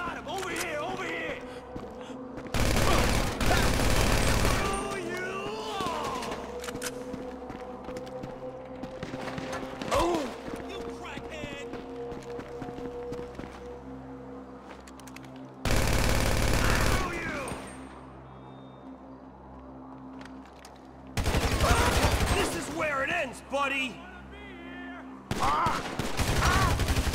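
Gunfire in the GTA 5 video game comes in several loud, dense bursts of rapid shots separated by quieter stretches, with game voices and mechanical sounds between the volleys.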